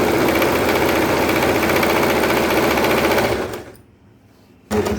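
A sewing machine double-stitches a petticoat seam, whirring loudly and continuously up close, then stopping briefly before starting again.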